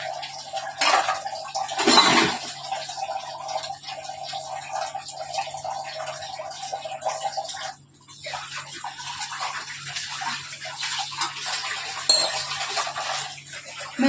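Running water splashes into a sink while dishes clink and clatter now and then, with a steady faint hum in the background.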